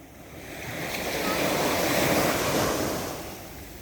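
Sea waves wash onto a shore, a broad rushing surge that swells in the middle and then recedes, steady and fairly loud with no voices over it.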